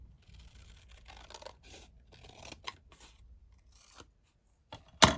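Scissors cut down a paper folio page to narrow it, a run of close crisp snips and rustles, then a pause and a louder final crunchy cut.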